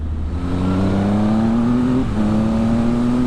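Triumph Speed Triple RS motorcycle accelerating hard, its engine note climbing steadily, then a quick shifter snaps through a gear change with a brief dip before the revs rise again, loud and close.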